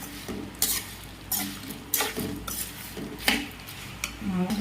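Dried red chillies fry in a pan for gongura chutney, a soft continuous sizzle broken by repeated close scrapes and clinks of a spatula stirring at a steady rhythm.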